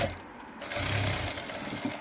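An electric sewing machine runs a straight stitch on a blouse, humming steadily at close range after a brief pause, with a faint rise in motor tone midway and no voices.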